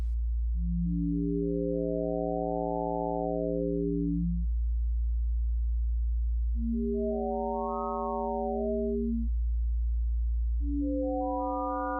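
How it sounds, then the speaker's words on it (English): Smooth, pure synthesizer tones swell and fade one after another, each a bright harmonic note sliding upward, over a low steady hum. "Then we have a set of four harmonic wavetables."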